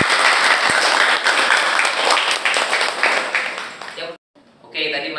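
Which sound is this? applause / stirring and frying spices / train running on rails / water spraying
applause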